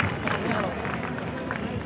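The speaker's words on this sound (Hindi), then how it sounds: "भरपूर तालियां होनी चाहिए" Audience applause at a large mushaira poetry gathering in Karachi's Expo Center: dense, continuous clapping from a big crowd mixed with murmuring voices, steady and moderately distant.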